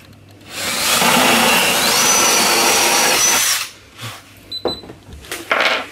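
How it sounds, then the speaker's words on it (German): A cordless screwdriver fitted with a new drill bit bores steadily for about three seconds while a climbing wall is built, its loud, even whine ending abruptly. A few short knocks and handling clatters follow. "So, neuer Schrauber, neuer Bohrer."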